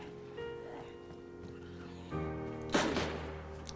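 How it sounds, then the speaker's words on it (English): A single gunshot rings out in the DayZ video game, a sharp broadband crack late in the clip against a steady tonal backdrop, heard alone with no talking. "I heard that gunshot"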